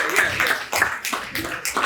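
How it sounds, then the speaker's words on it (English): Audience at a children's graduation ceremony clapping for the graduates, a loose burst of claps in uneven pulses, fairly close and moderately loud, with some voices mixed in. "let's clap for them"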